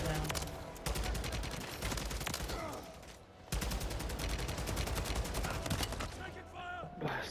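Sentry gun fire in a zombies shooter video game: dense, continuous automatic bursts that run loud and steady, break off briefly, then resume for several more seconds.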